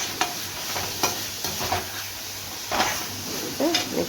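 Onion, tomato, green chilli and curry leaves frying in a pan for chicken gravy, with a steady close sizzle broken by several scraping stirs of a spoon.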